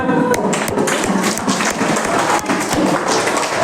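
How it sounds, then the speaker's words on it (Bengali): Schoolgirls at Barlow Girls' High School clapping their hands together, a dense, loud, fast run of overlapping claps close by that keeps going with no break. "হাততালি দাও সবাই"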